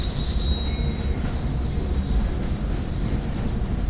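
A train running on rails and braking, with a steady low rumble of wheels under a constant high, piercing brake squeal throughout, close and loud, no voices.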